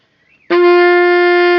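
Reed woodwind starting one sustained note with a sharp tongued attack after a brief quiet slide, then holding it steady and loud with a rich, bright harmonic tone.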